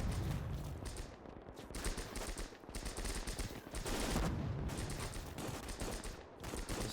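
Dense, continuous gunfire from a Gates of Hell battle as defenders trade long-range fire with attacking Soviet infantry, machine-gun bursts and rifle shots overlapping into a loud, unbroken fusillade with brief dips.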